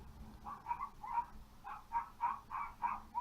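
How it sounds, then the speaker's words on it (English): Several dogs barking at a distance, a quick run of yelps in short clusters with brief pauses between them. "Dogs are barking now."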